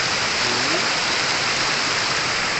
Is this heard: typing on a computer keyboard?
no